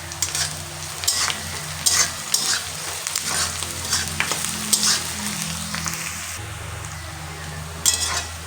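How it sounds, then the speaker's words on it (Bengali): Onions frying with a little sugar in a pan, a steady close sizzle broken by repeated scraping stirs and light clinks of a spoon against the pan. "এটাকে আমি সুন্দর করে লাল লাল করে কিন্তু ভেজে নেব পেঁয়াজটাকে"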